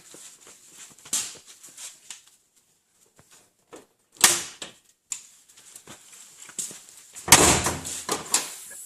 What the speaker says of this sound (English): Now we are going to pop the hood